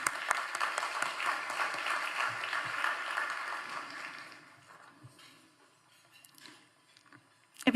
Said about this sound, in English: Let's give JT another round of applause.